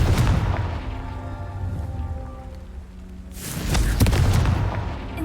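Confringo explosion spell cast in Hogwarts Legacy, a booming fiery burst with crackling debris near the end, following a quieter stretch of ambient game sound.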